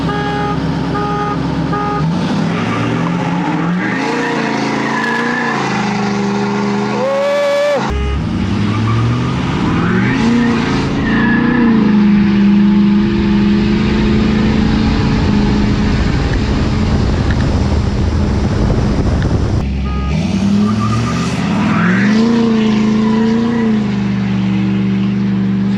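Several 2017 Ford 6.7 Powerstroke diesel pickup trucks racing, engines roaring and revving loudly with rising and falling pitch, one surge after another, close and continuous with no talk.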